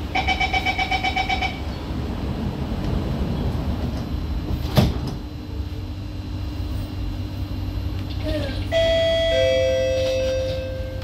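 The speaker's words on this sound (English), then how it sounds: "Doors are closing." Doors on an SMRT C151B metro train in Singapore close after a rapid repeating warning chime, followed by a thud, a steady motor hum and a later two-tone electronic signal over the rumble of the carriage.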